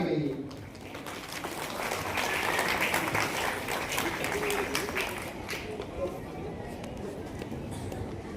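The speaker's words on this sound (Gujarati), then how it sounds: "તાળીઓના નાદથી એને વધાવી લઈએ." An audience at a student award ceremony applauds with dense, continuous clapping that swells and stays steady for several seconds.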